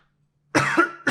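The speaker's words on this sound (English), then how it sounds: "I got a terrible little cough today" A man's sharp, close cough bursts out after a near-silent lead-in, followed by a second cough at the end, loud and alone with no talk.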